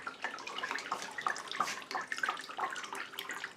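Fermented grain mash drains through a sieve bucket, giving a soft, continuous trickle and patter of liquid with small splashes, fairly quiet and with no voices.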